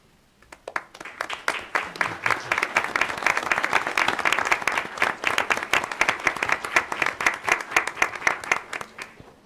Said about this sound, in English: I'd also like to extend a round of applause for our students' family members joining us today